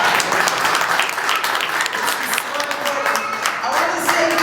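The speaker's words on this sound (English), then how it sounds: "Give him a clap." An audience at a community health and wellness gathering claps for a speaker, with steady, dense applause and voices talking beneath it throughout.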